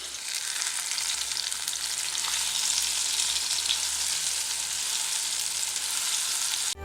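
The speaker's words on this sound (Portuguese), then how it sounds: "Então eu vou fritá-las primeiro, depois eu frito a cebola." Diced plantain (banana da terra) fries in a pan over a wood-fired stove, a steady, dense sizzle that holds evenly throughout, close and fairly loud with no voices.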